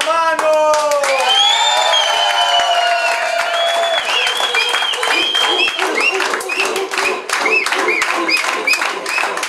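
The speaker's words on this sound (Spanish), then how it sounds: "Un fuerte aplauso para Manu." Audience applauding a guest at a Spanish-language film event about Buenaventura, dense sustained hand clapping close by, overlapping with sung or spoken voices that fade into the clapping.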